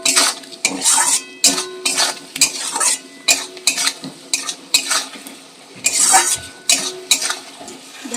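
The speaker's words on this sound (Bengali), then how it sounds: "বেশ কিছুক্ষণ এটাকে নাড়বো যতক্ষণ মশলা থেকে তেলটা ছাড়ছে" Spice paste with cumin powder being stirred in an oiled pan for a fish curry, a spoon scraping the metal in repeated bursts roughly every half second over a faint background sizzle, close and steady with no talking.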